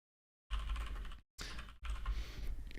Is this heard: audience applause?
no